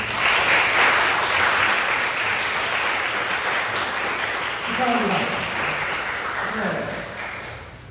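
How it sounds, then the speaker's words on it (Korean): A church congregation applauds a newlywed couple in a long, steady round of clapping that fills the room and slowly fades, while a voice speaks briefly over it. "이 두 부부가 신앙 안에서 행복할 수 있도록 격려의 박수 한번 드리겠습니다"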